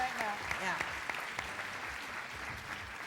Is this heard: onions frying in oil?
no